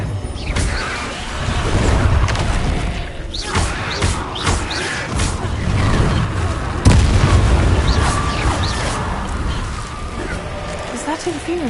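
Spell blasts from Hogwarts Legacy combat, including the Confringo explosion, land as repeated booms and thuds over busy game effects, with a spoken voice running throughout.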